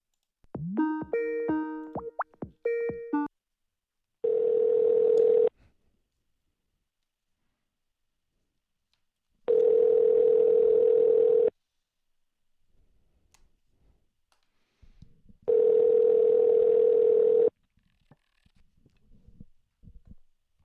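Telephone tones on an outgoing call: a few short stepped beeps, then three long, steady, loud tone bursts of about two seconds each, separated by silences, with faint rustling between them.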